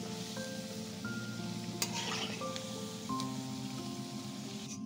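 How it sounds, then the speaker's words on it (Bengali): Brahmi leaf fritters sizzle in hot oil while being turned, giving a close, steady frying hiss with scraping stir sounds and a sharper clatter partway through, and no voices. "তো বড়াগুলো আমি উল্টে পাল্টে নিচ্ছি।"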